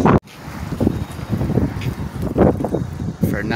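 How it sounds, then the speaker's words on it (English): Gusty wind buffets an outdoor microphone beside a homemade camper build, a rough steady rumble running under a man's speech throughout. "I know it's windy out here."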